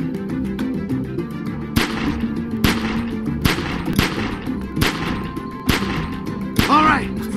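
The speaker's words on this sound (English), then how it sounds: "Remember, don't stop shooting." A shootout in The Walking Dead: 400 Days video game: single loud gunshots crack out at fairly regular intervals over a low ambient background, close and sharp.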